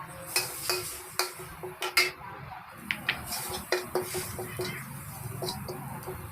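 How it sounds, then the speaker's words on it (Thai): Pounded jungle curry paste is stir-fried in a pan, with a metal spatula scraping and tapping the pan in irregular sharp clinks over a low steady sizzle, close and alone without talk. "ผัดเครื่องแกงที่เราตำนะให้หอม"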